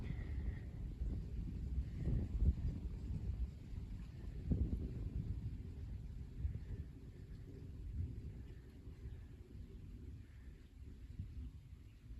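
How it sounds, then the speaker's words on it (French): Steady low wind from the south at about 20 km/h rumbling and buffeting, continuous and fairly loud, with faint distant thunder-like rumbles mixed in during storm season; no voices. "Toujours ce petit vent de sud là à 20 km/h."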